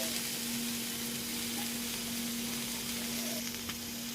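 Mixed vegetables for a Bengali panchmishali dish sizzle in a pan, a steady, fairly soft frying hiss running evenly throughout alongside a low constant hum, with no talking.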